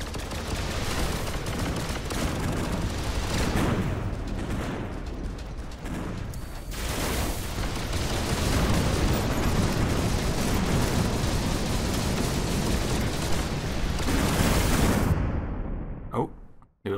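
Grenade explosions and gunfire in the mech shooter game Galahad 3093, a dense, loud, sustained roar of blasts and rapid mechanical firing that cuts off abruptly near the end.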